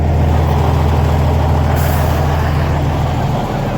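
A truck at a crash scene with an overturned crane truck rumbles with a loud, steady low engine drone, and a sharp air-brake hiss bursts out midway.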